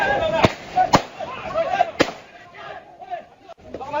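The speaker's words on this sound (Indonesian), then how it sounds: "Penggerebekan berjalan dramatis diwarnai dengan sejumlah tembakan ke udara." Several sharp, loud warning gunshots fired into the air ring out one by one during a police raid in Medan, Indonesia, amid a noisy crowd and shouting voices, spaced irregularly outdoors.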